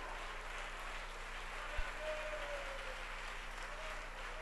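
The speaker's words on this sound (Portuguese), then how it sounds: "vamos aplaudir mais o Senhor Jesus" A church congregation claps for Jesus during a worship service, a faint, distant, even wash of applause under a low steady hum, with a brief thump partway through.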